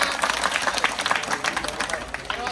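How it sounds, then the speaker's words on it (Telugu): A school audience at an Independence Day function at Z P High School, Gorlamudiveedu, breaks into brief, lively clapping, with a voice faintly present beneath the applause. "ధన్యవాదాలు కూడా క్లాప్స్ కట్టండి."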